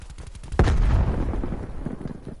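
Grenade blast and gunfire in a PS4 shooter game: a single sharp, loud explosion with a booming low rumble that decays over a second or two, preceded by faint rapid shots.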